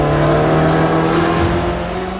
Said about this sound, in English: Top Gear's stuntman fired up the car